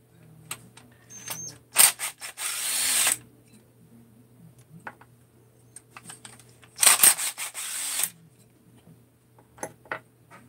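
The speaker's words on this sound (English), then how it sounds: "I got to pull the muffler bolts out here" A power tool works on the muffler bolts of a 394 engine in two loud, whirring bursts of a couple of seconds each, separated by quiet clinks and handling of metal parts.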